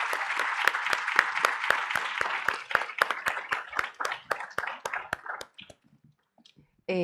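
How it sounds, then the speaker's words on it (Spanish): A conference audience applauds three panelists at a forum on refugees and migrants: a loud, rapid run of sharp claps that thins and fades to near silence after about five seconds, followed by a brief burst of sound at the end. "Yo quiero pedirles nuevamente unas palmas para las tres ponentes que nos han acompañado el día de hoy."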